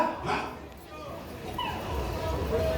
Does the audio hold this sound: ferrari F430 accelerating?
no